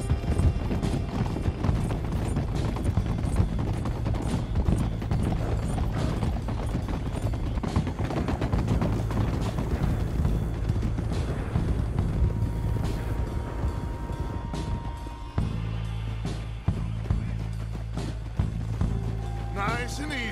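A group of riders on horseback sets off together, hooves clip-clopping in a steady, dense rhythm under a constant rumble, with voices heard among the riders throughout.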